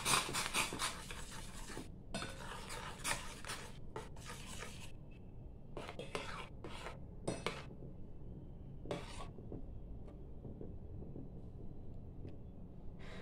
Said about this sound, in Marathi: हा 1 चमचा प्रीमिक्स घालते आणि मग याला ढवळून घ्यायचं